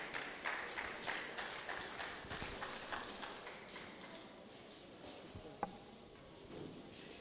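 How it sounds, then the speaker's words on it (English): A seated audience at a Lagos pharmacists' continuing education conference gives a round of applause, heard as soft, distant, dense clapping that gradually thins out, with one sharp louder clap near the end. "Please, can you help me give them a round of applause?"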